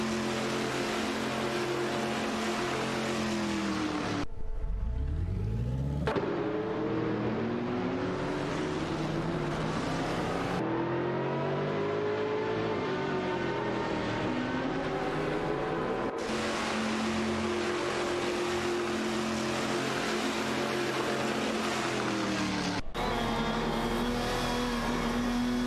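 Video game racing cars, BMW M3 E46 GTRs, screaming through the gears in a tight battle: a continuous loud high-revving engine note with repeated sharp upshifts and revs rising and falling, no voices.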